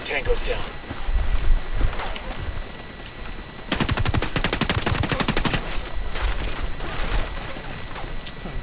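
Automatic gunfire from the Ghost Recon Wildlands video game, a dense rapid burst in the middle followed by scattered shots, with players talking over it.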